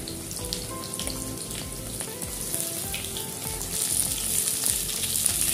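Beans added to lightly fried cauliflower sizzling in a pan, a dense steady crackle with occasional stirring clatter, close by and growing a little louder toward the end, with no voices.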